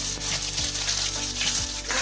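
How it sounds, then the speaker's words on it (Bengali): Chopped onions sizzle steadily in hot oil with nigella seeds, a close bright crackle, with a spoon scraping and stirring the pan a few times. "পেঁয়াজটা একটু ভাজা ভাজা করে নেব"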